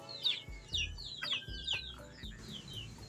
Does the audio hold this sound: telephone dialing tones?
no